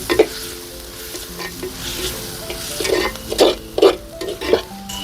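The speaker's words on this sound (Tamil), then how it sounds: "நல்லா சேர்த்து வதக்கிக்கோங்க" Chili powder masala sautéed in a pot over a wood fire: a steady sizzle with repeated scraping stirs of a utensil against the pot, several distinct strokes near the end, close and without speech.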